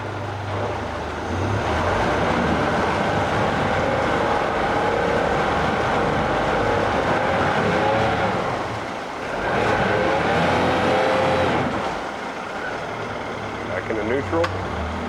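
A 2015 Yamaha F115 four-stroke outboard boat motor under light throttle, a steady loud engine drone that dips briefly and then rises again, with a person talking at times.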